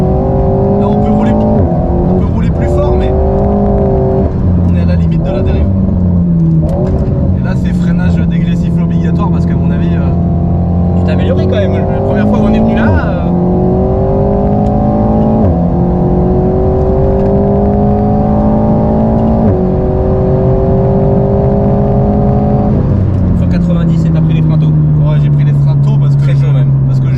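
An Alpine car driven hard on a race circuit at the edge of a drift, its engine loud and constant in the cabin, pitch climbing and dropping through repeated gear changes while voices talk over it.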